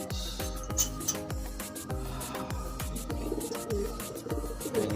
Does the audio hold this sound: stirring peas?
no